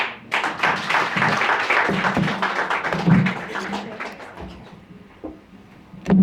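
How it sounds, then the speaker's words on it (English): An audience applauds after a speech, a dense wash of clapping that holds steady for several seconds and thins toward the end, with a few sharper single claps and thumps near the close. "Another round of applause for Judy Sweeney."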